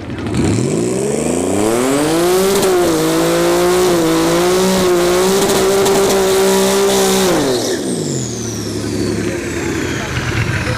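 A turbocharged V6 S197 car at a drag strip roars close and loud, its engine pitch climbing then holding a steady high drone before falling away, with a brief tire squeal and a faint whine trailing off.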